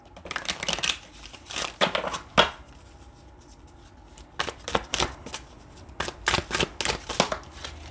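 Tarot cards are shuffled in several quick riffling bursts with short pauses between them, close and fairly quiet.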